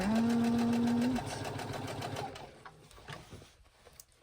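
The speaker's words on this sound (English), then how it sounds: "I'm just going to go ahead and sew slowly all the way around" A sewing machine runs slowly, stitching around a jeans hem: a close, steady rapid needle rhythm that carries for about two seconds, then slows and stops, leaving faint handling noises.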